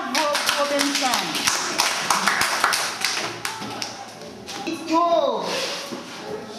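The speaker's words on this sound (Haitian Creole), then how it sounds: "Battez un gros bravo pour Robinson." Children clap for a classmate at a school: a stretch of quick, uneven claps and taps close by, with excited voices talking over them throughout.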